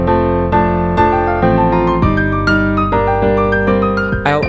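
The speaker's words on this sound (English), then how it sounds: "come listen to some spatial sound and piano improvisation" Piano improvisation in spatial sound, with sustained chords and melodic notes unfolding at a gentle, steady pace, played clearly and without any voices.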